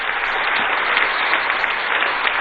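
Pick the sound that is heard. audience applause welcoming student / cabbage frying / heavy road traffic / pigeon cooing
audience applause welcoming student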